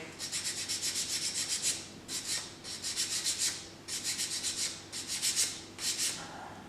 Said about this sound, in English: we're just double checking to make sure that we're not going too far with the filing